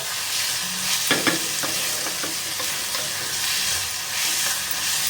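Tomatoes sauté in a hot oiled pan for Mumbai street-style bhurji, a loud continuous sizzle close up, with a spatula pushing and scraping through it in short irregular strokes.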